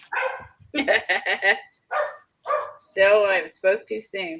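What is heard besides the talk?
dog barking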